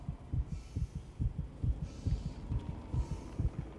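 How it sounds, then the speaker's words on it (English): Isaac's heartbeat thumps steadily in the Dead Space Remake video game, a close, loud double-beat pulse repeating about every 0.8 seconds with low throbbing over a faint hum, no voices. "Isaac's heartbeat."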